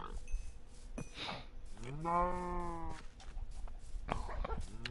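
Cows in Minecraft Bedrock Edition give a couple of drawn-out synthetic moos, one long and prominent in the middle, with faint blocky game sounds around them and no talking.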